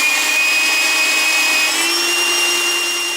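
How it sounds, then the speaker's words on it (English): A belt sander runs continuously against a piece of metal held in a vise, a loud, close, steady whine with a slight shift in pitch partway through and no voices. "this belt sander will do a very, very quick job"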